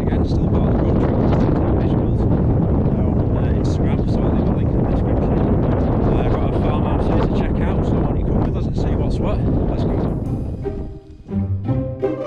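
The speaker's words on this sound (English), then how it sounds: "it's seeming a bit windy here" Strong wind outside an abandoned house in Wales buffets the microphone with a loud, constant roar that eases near the end as faint sounds come through.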